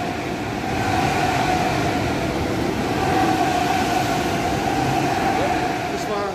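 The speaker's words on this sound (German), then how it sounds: "Und hier kommt ein Zug." A Deutsche Bahn train rumbles past in Mannheim with a broad, steady roar that swells and fades, heard fairly close, with no talking.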